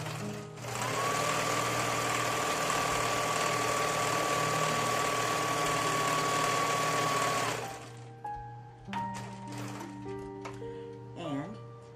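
A sewing machine runs a continuous quarter-inch seam along folded pillow pieces, a loud steady motor whir lasting several seconds before stopping, then someone talks over lighter handling sounds.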